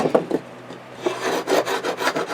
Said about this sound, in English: Then I use my scraper tool and I scrape that.